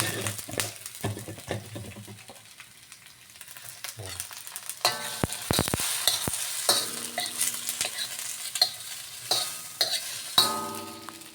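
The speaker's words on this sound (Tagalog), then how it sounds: "Gigisa lang natin yan para lumabas lang yung niya" Tomato, onion, garlic and chili sautéing in a pan, with a continuous sizzle and repeated clattering stirs and scrapes of a utensil, growing busier in the second half.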